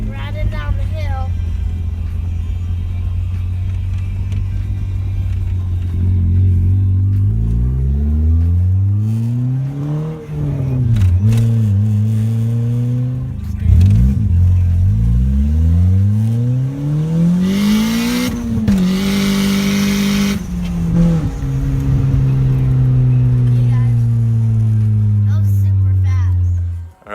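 A turbocharged 1989 Nissan 240SX heading downhill, its engine loud and close as revs climb repeatedly through gear changes with sweeping pitch rises and a hiss around the turbo, with people talking inside the car.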